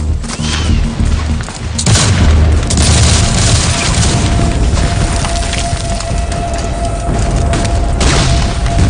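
Dense battle noise of gunfire and exploding shells at Gettysburg roars continuously and loudly, with repeated booms and cracking volleys blending into a constant wall of sound.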